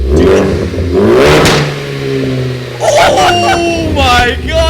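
A Ford Focus fitted with an AWE Track Edition exhaust revs loudly nearby, two strong blips rising and falling in pitch, with a deep exhaust roar and a voice briefly mixed in.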